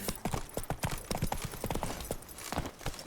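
Roach, Geralt's horse in The Witcher 3, trots with hooves clip-clopping in a steady, fairly close rhythm of quick beats, with no talk.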